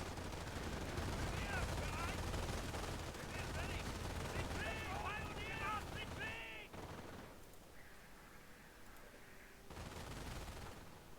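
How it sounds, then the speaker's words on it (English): Rapid gunfire and machine-gun bursts from a Company of Heroes base under attack, loud and dense for about seven seconds, with voices mixed in, then easing to quieter battle noise and scattered shots. "Base taking fire."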